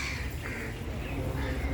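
A crow caws a few times amid a busy bird-feeding scene in Ludhiana, the calls rising over a steady outdoor wash of noise.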